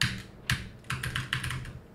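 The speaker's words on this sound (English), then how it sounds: "All you will hear is my keyboard going." A computer keyboard clacks in quick, uneven bursts of close, crisp keystrokes, a few taps clustered together at a time, with no voices over it.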